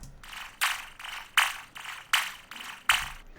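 A short synthesized zap effect from an electronic music production, heard as six bright, noisy bursts firing in a steady rhythm, each snapping on sharply and fading quickly, loud and alone.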